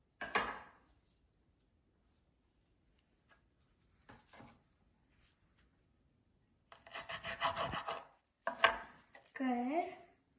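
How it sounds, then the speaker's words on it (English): A knife cuts through a bell pepper on a board in a kitchen during a children's cooking session, giving a few separate rasping, scraping strokes with quiet gaps between them, close and fairly soft. "Now we are going to get our pepper and we are going to cut where the line is, right here."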